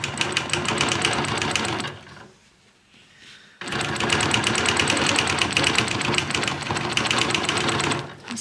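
A domestic sewing machine quilts a straight line along a long Squiggy ruler, running steadily and loudly with a rapid even stitching whir, pausing briefly for about a second and a half before resuming at the same pace.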